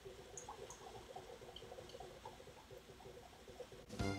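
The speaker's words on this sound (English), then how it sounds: "Look at all that bubbling." Homebrew fermenting in a vessel about 20 hours after yeast was added, giving off a steady, quiet fizz of small bubbles and soft pops that runs throughout, with a louder burst of noise right at the end.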